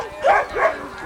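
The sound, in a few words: sled dog barking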